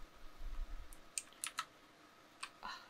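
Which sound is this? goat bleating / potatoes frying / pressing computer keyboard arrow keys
pressing computer keyboard arrow keys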